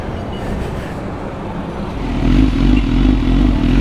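BMW superbike engine in a street setting in Faisalabad, a steady rumbling motor that grows louder and heavier halfway through as it revs, close by with no talk.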